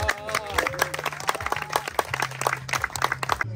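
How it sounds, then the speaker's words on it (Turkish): Scattered clapping from a small group of people at a fishing gathering, uneven and moderate, mixed with voices and a low rhythmic hum underneath. "kocaman bir alkış"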